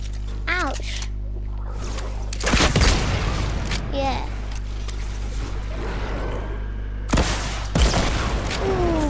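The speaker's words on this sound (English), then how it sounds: "Rocket launcher." Rocket launcher explosions in Fortnite: two loud booming bursts with crackling tails, several seconds apart, mixed with game sound effects and a voice shouting over them.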